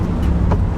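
Ford Transit van driving hard around the Nürburgring, a steady, loud engine and road drone close by with continuous low rumble and no break.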